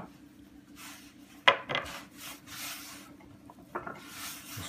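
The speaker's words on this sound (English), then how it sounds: "I'm just going to knead it up." Almond pastry dough made with ground almonds and flour, kneaded by hand: quiet soft rubbing and pressing broken by a couple of dull thumps, with no one speaking.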